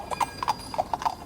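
Horses pull a wagon, and their hooves clip-clop in a quick, steady rhythm. Several paired hoof strikes land close and clear, with no voices over them.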